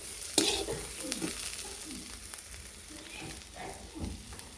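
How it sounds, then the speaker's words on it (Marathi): Onion with turmeric frying in a pan while a spoon stirs it, a soft continuous sizzle broken by scraping strokes and a sharp knock near the start. "आता आपण कांद्यामध्ये हळद टाकून घेतलेली आहे आता कांदा भाजत आला आहे"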